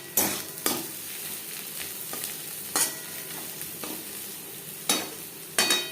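Sliced onions fry steadily in a pan for an alu chicken curry, a continuous soft sizzle broken by several sharp scraping stirs of a spatula, close by with no talking.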